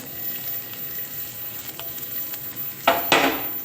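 Cumin seeds and garlic spluttering in hot oil, a steady crackling sizzle with two louder bursts of popping near the end.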